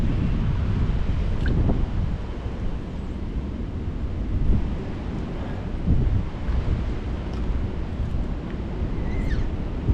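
Strong wind roars and buffets continuously against the microphone, a low heavy rumble with gusts swelling and easing throughout.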